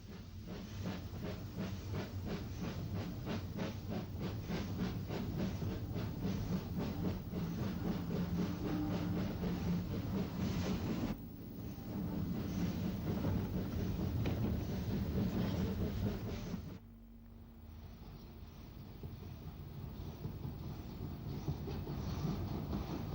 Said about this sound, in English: Number 29, Alverstone, bursts out of the single-bore tunnel through St Boniface Downs and into Ventnor Station.